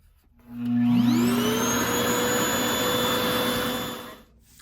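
A hair-stretching dryer's loud motorized whine spins up quickly, rising in pitch, then holds a steady airy roar before cutting off.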